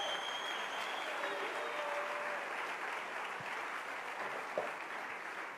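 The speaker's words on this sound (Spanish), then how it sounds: "dale un aplauso al Rey bendito." A church congregation at a Friday worship service claps in steady, sustained applause, moderately loud and continuous throughout, with a couple of brief knocks near the end.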